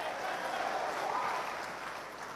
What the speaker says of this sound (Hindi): आप ताली बजाते रहिएगा